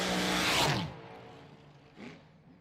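Altered drag race car launching down the strip at US 131 Motorsports Park, a loud roaring burst that quickly fades into the distance, followed by a fainter whir shortly after.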